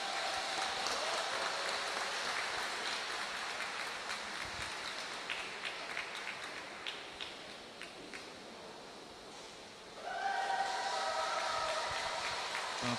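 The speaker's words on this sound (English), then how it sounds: "Okay, we hear applause from the competition area." Applause drifts in from the competition area at a pool freediving championship, a faint, distant patter of clapping under a busy hall hum, with a brighter burst of clapping near the end.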